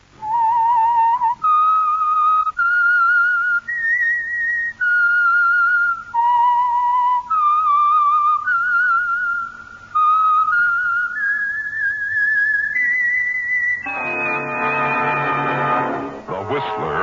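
Whistled theme of the radio mystery show The Whistler, a clear solo melody of stepwise notes, ending as an orchestral chord swells in.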